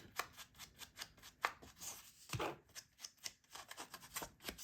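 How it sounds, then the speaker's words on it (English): Vintage Photo Distress Oxide ink is applied along torn paper edges for a journal page, giving soft, quiet rubbing and dabbing strokes in an irregular rhythm, close and faint with no talking. "I'm gonna use my Vintage Photo Distress Oxide ink just along the tear marks"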